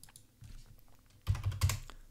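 Keys on a computer keyboard are tapped to type an exclamation mark: a soft press, then a quick cluster of close clicks, alone and fairly faint.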